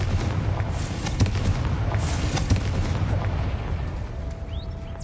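A Confringo spell blast from Hogwarts Legacy booms and rumbles continuously, with scattered cracks and crackles over a deep, sustained roar.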